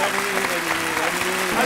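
An audience applauding a cabaret magician in a television theatre, a dense steady wash of clapping running under someone speaking over it.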